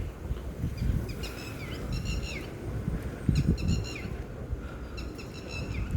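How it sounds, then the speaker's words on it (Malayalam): Birds chirp and squawk repeatedly in a sculpture park in Kerala, short bursts of calls recurring over a low ambient rumble of wind and distant activity, moderately near. "കിളികളുടെ സൗണ്ട് പിന്നെ എപ്പോഴും ഉണ്ടാവും ഇവിടെ."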